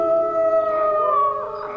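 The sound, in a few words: pack of jackals howling (story sound effect)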